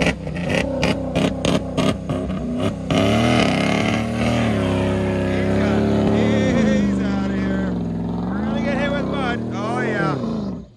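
A worn Dodge Dakota pickup engine revs hard and strains at high pitch for several seconds, the roar rising and wavering loudly after a few choppy bursts, up close.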